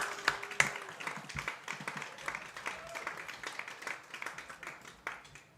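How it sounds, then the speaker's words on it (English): A crowd claps and applauds for a senior softball player at a varsity softball game, a scattered patter of hand claps that holds steady throughout at moderate loudness. "Let's give a round of applause"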